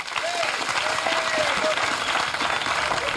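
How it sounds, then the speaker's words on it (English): Big round of audience applause at the close of a televised talent showdown, dense sustained clapping from a large crowd with a few voices rising over it, loud and continuous throughout. "we should have a big round of applause for everyone from the Big L and, of course, to Harvey Goldsmith."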